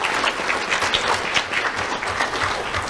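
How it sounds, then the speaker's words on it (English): An award-ceremony audience applauds steadily, dense clapping from many hands filling the room at a loud, even level for a few seconds with no pause. "Let's give a round of applause to Lieutenant Gonzalez."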